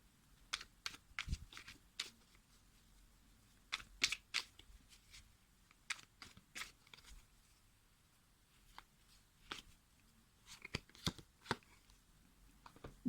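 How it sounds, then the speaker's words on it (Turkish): Tarot cards are shuffled and picked one by one for a reading, giving a string of short, sharp papery flicks and snaps in irregular bursts, close and fairly quiet, with no talking. "Ben şimdi bu ikiliye bir kart seçmek istiyorum."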